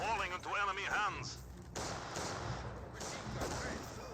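Maxim machine gun fire in the World War II strategy game Company of Heroes 2, a dense stretch of rattling gunfire and battle noise, with a commentator's voice over the first second or so.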